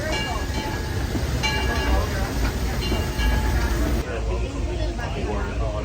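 Steady rumble of a Disneyland Railroad ride on the Grand Circle at Disneyland, loud and continuous, with a faint rhythmic clatter and muffled background chatter from passengers.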